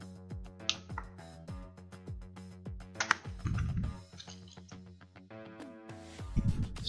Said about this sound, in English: like the D-pad is clicky, but these are soft membrane